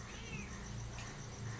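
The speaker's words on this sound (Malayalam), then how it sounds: "പൂച്ച പൂച്ച പൂച്ച" A cat meows faintly a few times in short, soft calls against a quiet outdoor background.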